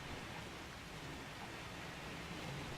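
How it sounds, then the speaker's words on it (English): Steady rain falling in a survival video game, a faint, even hiss of rainfall with no breaks and no talking. "It has been raining a while."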